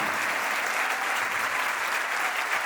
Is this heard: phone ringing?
no